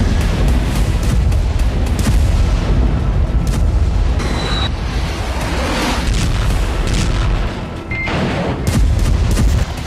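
Missile fire and explosions along the Israeli border, a dense, continuous roar of loud booms and blasts layered over one another with no pauses, heavy and close throughout.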